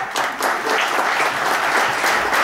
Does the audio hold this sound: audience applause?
yes